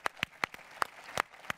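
Audience applause at a closing conference, heard as a handful of distinct, evenly spaced claps, close and sparse rather than a full ovation.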